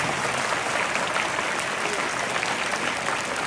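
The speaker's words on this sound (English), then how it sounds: "Give a big round of applause to Vandana ma'am." Loud, close applause from a school audience at a farewell for a teacher at St. Francis School, a thick, even roar of clapping sustained from start to finish.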